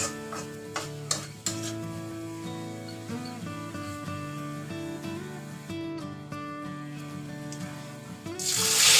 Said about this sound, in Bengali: আমরা ভেজে নেব পাঁচফোড়নটা সামান্য